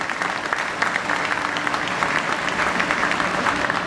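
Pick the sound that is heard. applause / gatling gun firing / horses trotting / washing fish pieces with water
applause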